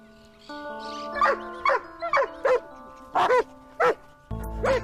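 Several dogs tracking a puma bark in short, loud bursts, about seven in a row at an uneven pace, with a steady hum underneath, in La Pampa, Argentina.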